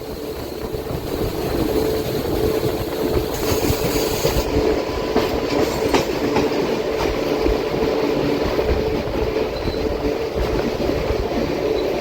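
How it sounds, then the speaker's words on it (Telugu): The Bhagyanagar Express, a passenger train on the Kacheguda–Nadikudi line, rumbles past nearby with a steady loud roar, rhythmic wheel clatter and wind buffeting throughout. "నాకు తెలిసి ఇది భాగ్యనగర్ ఎక్స్ప్రెస్ అనుకుంటున్నాను నేను."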